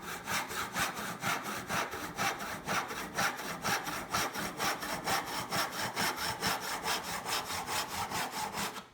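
A tenon saw cuts through clamped material in steady, even back-and-forth strokes, about three per second, each rasping pass close and clear throughout with no speech.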